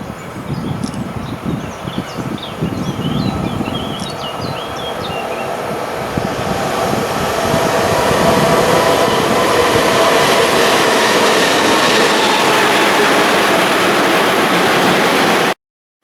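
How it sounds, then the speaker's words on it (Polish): A train runs through the platform at Łowicz station without stopping, its steady rumble and wheel noise building and holding loud and close for the whole stretch, with a faint tonal squeal near the start. "Po pierwszym czy peronie pierwszym przyjdzie pociąg bez zatrzymania"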